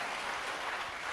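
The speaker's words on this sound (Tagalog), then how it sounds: "Malakas na palakpak para kay Jesus." A church congregation applauds loudly with dense, continuous clapping that fills the space, no voices above it.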